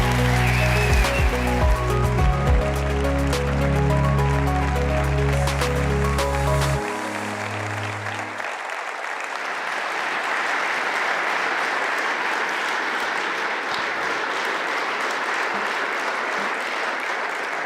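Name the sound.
conference audience applause for Robert Habeck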